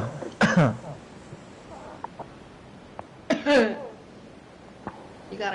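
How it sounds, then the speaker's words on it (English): Two sharp coughs ring out during a live online game session, each a short harsh burst with a pause between, plus a few faint clicks, close to the microphone and alone without talk. "You got a cough again, I see it."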